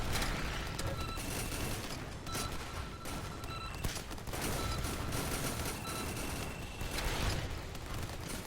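Rapid missile and weapon fire in a video game, a dense, continuous barrage of bursts and booms with mechanical clatter, loud and sustained throughout with no talk.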